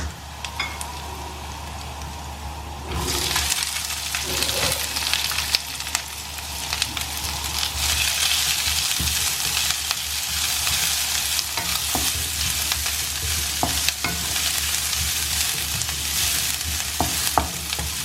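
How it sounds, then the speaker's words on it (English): Onions hit a hot pan and a dense, steady frying sizzle rises and continues without a break, with small pops and crackles scattered through it. "And now we'll add the onions."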